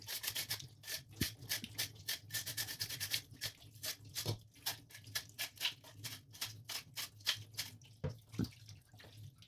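A green brush scrubs the holes of a stainless steel filter from a Kuvings AUTO10 juicer, making repeated close, soft rubbing strokes in an uneven rhythm with faint watery sounds.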